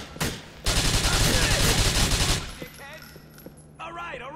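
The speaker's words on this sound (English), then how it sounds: "Who the fuck is shooting at me?" Rapid bursts of automatic gunfire fill a Grand Theft Auto 4 game scene, loud and dense for a couple of seconds before cutting off, followed by scattered quieter game sounds and electronic chirps.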